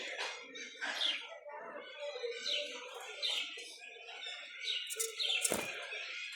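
Small birds chirp and tweet near a pigeon loft on a cold, foggy morning, a run of repeated bright calls with a brief louder rustle toward the end.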